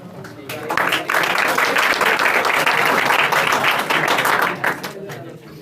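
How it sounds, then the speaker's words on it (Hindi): A classroom of students at a coaching centre claps loudly for a classmate, a dense, sustained round of applause filling the room from start to finish. "ताली बजाइए।"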